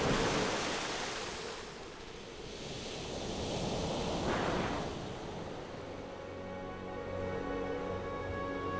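Stormy southern sea roars as waves surge and crash with gusting wind, a continuous swelling rush that builds and recedes, while faint steady tones creep in toward the end.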